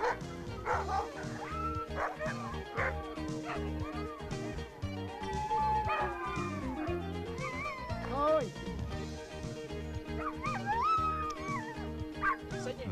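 Czech mountain dogs bark and yip repeatedly at a skijoring sled dog race, several animals close and loud with whimpers mixed in, while a voice talks over the din throughout.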